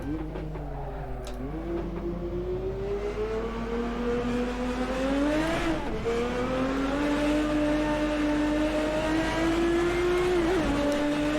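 A Maserati MC12 in the Assetto Corsa racing game roars steadily as it accelerates hard out of a corner, its engine note climbing smoothly and continuously, loud and close, with no one talking over it.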